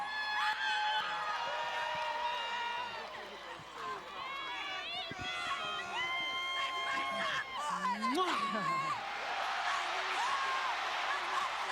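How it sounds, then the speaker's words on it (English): A crowd at a charity boxing event cheers and screams for the winner, loud and continuous, with shrill voices and whoops over a broad roar while people talk over it. "And listen to the crowd. You have a ton of supporters here."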